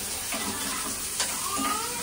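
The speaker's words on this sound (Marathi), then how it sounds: "कांदा परतून घ्यायचा आहे." Finely chopped onions sizzle and crackle in a hot pan, a steady close frying hiss with faint stirring scrapes.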